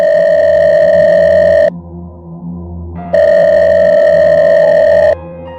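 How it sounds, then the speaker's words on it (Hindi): A phone ringing with a loud electronic tone in two long bursts separated by a short quieter gap, clear and close with no voices. "कि पॉकेट में रखा उसका फ़ोन बज उठा।"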